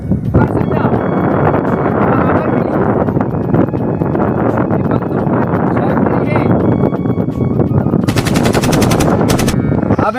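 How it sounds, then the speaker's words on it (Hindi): Gunfire rattles in rapid, loud bursts throughout a comedy sketch, with a windy hiss mixed in and a harsher volley near the end. "अब एमा 3 गोली गए"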